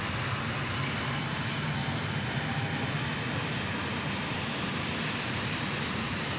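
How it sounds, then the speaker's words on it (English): Twin jet engines of an M-346 Master trainer in Microsoft Flight Simulator spool up with a steady, loud broadband roar and a faint rising whine, continuous and close throughout with no talk. "We've got twin engines going here, so let's spool them up."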